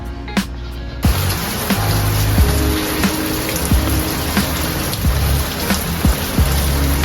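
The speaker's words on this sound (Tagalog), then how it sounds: "So as you can see guys, umuulan na naman." Steady rain pours down during the rainy season, a dense close hiss with scattered heavier drops and taps striking a surface, with no talk.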